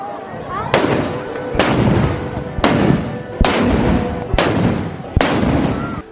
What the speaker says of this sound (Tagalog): Namiss sa mga bagunhon pati na sa mga turista ang pagsigabong sa mga kanyon.